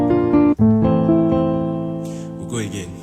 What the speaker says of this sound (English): We can now break this into arpeggio.